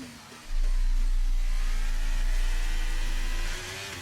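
Formula 1 race car engine from F1 23 during practice laps, a loud steady high-revving whine that holds alone for about three seconds before dropping back.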